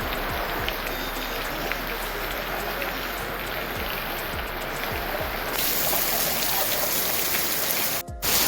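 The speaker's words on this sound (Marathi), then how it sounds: "मुसळधार पाऊस होतोय" Heavy rain pouring steadily on surfaces, a dense hiss that grows louder partway through, with a brief dropout near the end.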